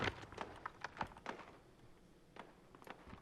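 A video game character runs with a shield, producing quick, deep thumping footsteps in an uneven rhythm. The steps are fairly soft and close, with several sharp taps in a row.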